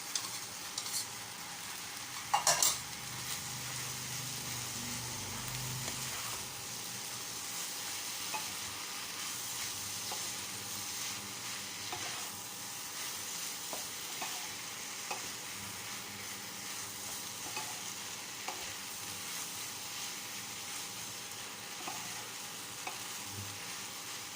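Wide rice noodles and vegetables being stir-fried for Pad See Ew, a steady close sizzle with a sharp clatter early on and light scraping of the spatula throughout, with no talking.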